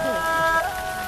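Rain falls in a period drama scene as a steady soft hiss, brief and even, with music tones and a voice layered on top.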